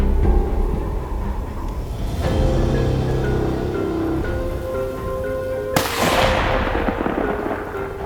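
Gunshots on a freezing-cold hunt for a male animal: a loud blast, then a second, sharper crack a few seconds later, each trailing off in a long rolling echo outdoors.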